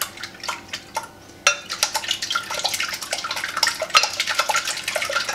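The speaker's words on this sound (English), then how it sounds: "we're going to go ahead and whisk our eggs a little bit" Eggs are whisked with half and half in a bowl for a ham, asparagus and Swiss quiche, the whisk clicking rapidly and unevenly against the bowl at close range.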